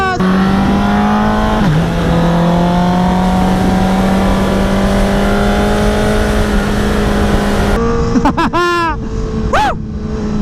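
A Honda CBR superbike in Repsol colors accelerates hard, its engine note climbing through the gears in rising whines, with sharp revving bursts near the end, loud and close under wind noise.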